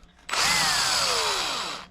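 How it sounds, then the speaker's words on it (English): A power drill fitted with a 5/64 bit bores through a round shaft at a filed flat spot, a sharp whine starting suddenly and holding steady with its pitch sliding down, loud and close. "it allowed me to put a 5/64 drill bit, okay, on there"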